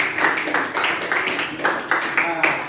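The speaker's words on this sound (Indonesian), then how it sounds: "Oke, tepuk tangan dulu, Putri" Classroom students clapping for a classmate named Putri, bursts of many hands clapping close by, rising and falling in uneven waves.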